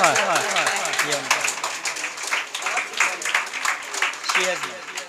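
Students clap for a second-prize winner at a Teacher's Appreciation Day celebration at SS English Academy, a steady scattered applause under loud children's chatter and voices throughout.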